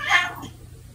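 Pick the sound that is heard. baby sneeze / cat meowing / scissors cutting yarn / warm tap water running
cat meowing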